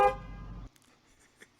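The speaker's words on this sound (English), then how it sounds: "Honking the horn, baby." A car horn gives one loud, short honk, then cuts off, leaving only faint scattered noise afterward.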